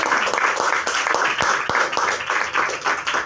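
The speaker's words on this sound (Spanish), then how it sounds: "Dale un aplauso al Señor." A church congregation claps for the Lord during a Good Friday service, a lively patter of many hands with a few sharper individual claps standing out.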